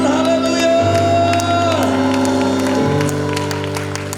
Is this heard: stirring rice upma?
no